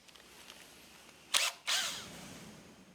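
A faceplate comes off a wooden bowl turned on a lathe as a power driver removes its screws, two short whirring bursts close together that stand out against quiet surroundings.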